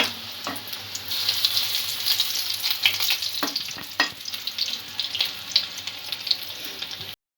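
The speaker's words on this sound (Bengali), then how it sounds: "এইভাবে পাকোড়াগুলো এপিট ওপিট করে ভেজে নেব।" Chicken pakoras frying in hot oil, turned over as they cook: a dense, bright sizzle with bubbling crackle and a few sharp clinks and scrapes of a utensil, close by and steady until an abrupt stop.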